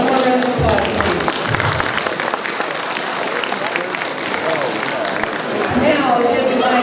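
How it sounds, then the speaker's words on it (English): A large audience at an evening awards and anniversaries soiree claps in sustained, dense applause that stays loud and even throughout, with crowd murmur and voices mixed in. "One more round of applause, please."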